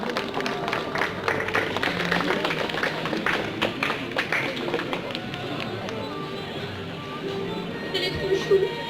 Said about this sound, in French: Donc on applaudit tous la jolie Etsuko qui va du coup défiler.